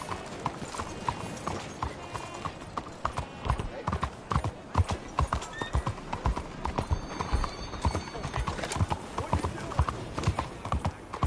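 Horse hooves in the game Bella Sara clip-clop in a brisk, steady rhythm close by, with a neigh and a person talking over the trotting.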